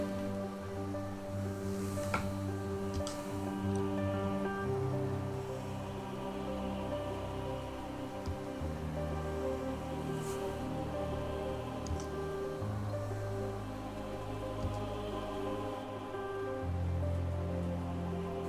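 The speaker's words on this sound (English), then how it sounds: "What are you doing out in this miserable downpour?" A heavy rain downpour in the video game Hollow Knight patters continuously and evenly, with a low rumbling undertone and occasional faint ticks, with no talk over it.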